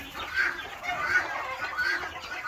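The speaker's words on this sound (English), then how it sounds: "Some of these roosters are getting pretty big." Young roosters in a farm flock give a steady run of soft clucks and murmurs at close range, with some background noise.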